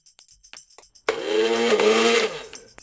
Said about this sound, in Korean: 테스트 삼아 조금만 갈아봅니다.